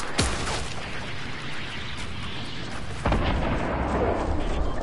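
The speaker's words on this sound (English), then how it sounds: "He's shooting at us." Gunfire in the Fortnite battle royale video game, sharp shots cracking over a dense rumbling backdrop of blasts and booms, one clear crack early and another burst a few seconds later.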